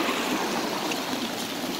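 Continuous rushing floodwater after heavy downpours roars steadily and loudly, a dense broadband wash with no voices.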